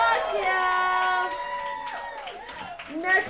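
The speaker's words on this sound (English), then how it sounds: "All right, Gaurav, give him a big round of applause." Audience at a comedy night in a brewery cheering and whooping for a comedian, with loud sustained shouts and a whistle that fade into scattered clapping and crowd noise.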